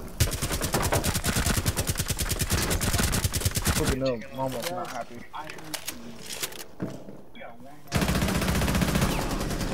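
Rapid automatic gunfire from Rainbow Six Siege rattles loudly for about four seconds, then gives way to people talking with scattered shots. A renewed loud burst of firing closes it out.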